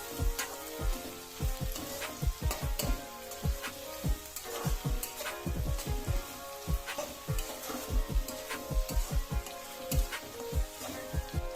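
Thin-sliced garlic fries in a pan for a crispy chicken cutlet, its continuous crackling sizzle broken by repeated sharp clinks and scrapes of a spoon stirring against the metal.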